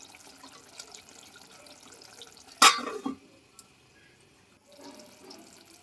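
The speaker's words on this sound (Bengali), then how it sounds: "আমি এতে কিছুটা জল দিয়ে দেবো।" Water poured into a potol posto curry in a pan, a short burst of splashing pour lasting about half a second, close, surrounded by quiet kitchen background and faint bubbling.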